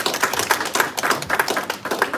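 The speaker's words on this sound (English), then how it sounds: "a big round of applause to get us going to Yeti" Audience at a UK start-up networking event applauding: close, fairly even hand claps in a steady quick rhythm for a couple of seconds, with no talking.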